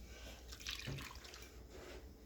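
Milk pours steadily into a bowl nearby for cornbread batter, a soft continuous splashing trickle that swells briefly, heard alone and quietly.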